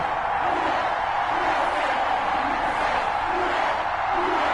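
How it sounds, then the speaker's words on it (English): Stadium crowd roar from an EA Sports NFL video game before a Tampa Bay Buccaneers matchup, a steady dense wash of cheering with faint rising swells, loud and continuous without clear voices on top. "This crowd is ready as their guys get set to match up between the Tampa Bay Buccaneers and our home team."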